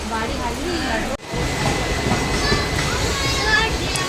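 A passenger train rolls along the rails on a trip to Sainagar Shirdi, a steady rumbling hiss with faint clatter and a brief dropout, while voices talk over it.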